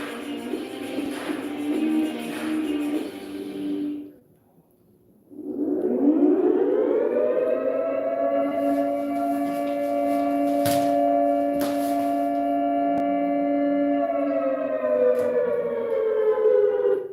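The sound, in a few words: nuclear air raid alarm siren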